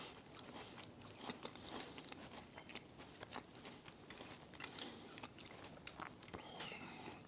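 Crunchy biting and chewing into a thousand-layer apple cake served with ice cream, close and quiet, with soft irregular crunches over several seconds.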